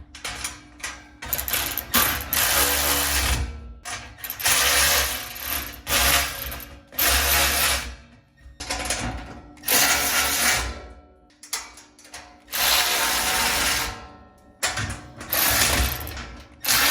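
A 13 mm ratchet tightens the bolts on the uprights of a cheap Temu welding table, giving loud, close, repeated bursts of rapid pawl clicking with short pauses between, and no talking.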